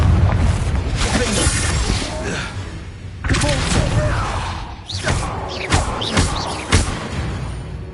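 A Confringo blasting curse exploding in Hogwarts Legacy: several booming, crackling bursts hit at intervals over continuous game noise, with voices speaking.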